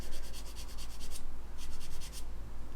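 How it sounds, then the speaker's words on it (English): A sanding stick rubs a plastic model kit part in quick, rhythmic back-and-forth strokes, a fast scratchy run, a brief pause, then a second run, close and fairly quiet. "just utilising the different grits of sanding stick"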